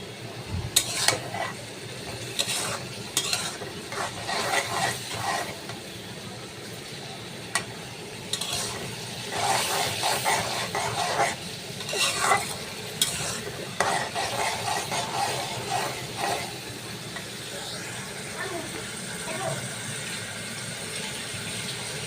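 Onions sauté in oil in a pan for a Bangladeshi pabda fish bhuna, with soft frying hiss under repeated clinks and scrapes of a spoon against the pan, no talking.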